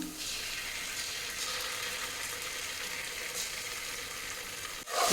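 Onions browning over a medium flame with ginger garlic paste added hiss in a continuous, fairly loud sizzle, close and steady for several seconds before a brief clatter at the end, with no talking.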